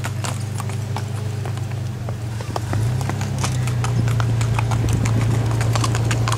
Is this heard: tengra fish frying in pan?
no